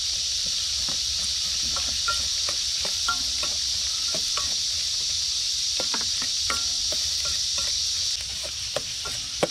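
Garlic and onion sautéing in a pan make a soft, continuous sizzle with many scattered pops and crackles, while a high insect-like drone runs underneath until it drops off near the end.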